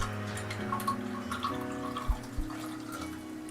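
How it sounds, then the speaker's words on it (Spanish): Water poured into a drinking glass during a chemistry color-change demonstration, a trickling stream with a couple of soft splashes and knocks, fairly quiet and heard alone. "Entonces vaciamos en este vaso"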